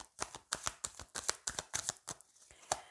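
Tarot cards handled and laid down one by one in a quiet room, a rapid series of crisp, close slaps and flicks with short gaps between, no voices.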